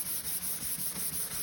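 Soft, steady rhythmic rubbing of a soft sanding block across the body of a Tacoma guitar, quiet and close, with even back-and-forth strokes and no talking.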